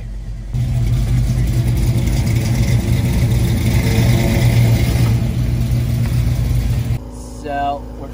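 A Ford Bronco fitted with a new 351 engine drives along, its mid-pitched engine droning steadily and loud for several seconds before easing off, with a voice speaking over it.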